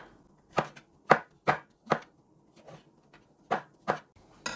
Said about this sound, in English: I'm going to cut the mushrooms just into small bits.